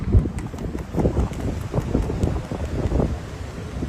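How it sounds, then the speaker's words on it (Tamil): Gusting outdoor wind buffets loudly and steadily across the open ground where a kite is being flown, a rough continuous rumble with no talk. "காற்றுலாம் நல்லா இருக்குது"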